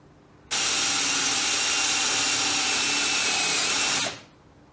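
A bolt driven into a wooden seat-box trolley frame like a screw, cutting its own thread: one continuous power-driver whine for about three and a half seconds that starts abruptly and winds down, nearby with no talk.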